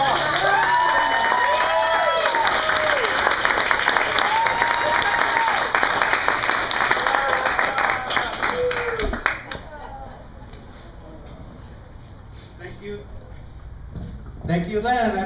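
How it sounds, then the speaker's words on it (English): An audience applauds a speaker at an event in San Jose, with loud, sustained clapping and a few cheers that fill the room for about nine seconds, then fade to scattered claps and quieter room noise. "Let's give him a round of applause."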